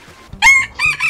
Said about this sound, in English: A bunch of chickens just came out of nowhere.